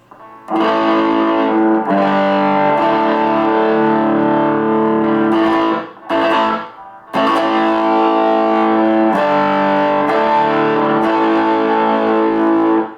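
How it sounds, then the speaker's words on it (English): Electric guitar played through a Boss SD-1 overdrive pedal into a Harley Benton TUBE5 amp with a Celestion speaker: loud, distorted sustained chords ringing out alone, with two brief gaps near the middle. "let's hit the OD, overdrive, SD1"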